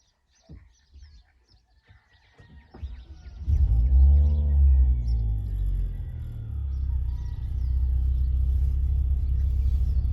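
A Volvo S60 engine turns over and fires up after a new alternator is fitted, settling into a steady low idle rumble close by, with faint birdsong in the background before the start.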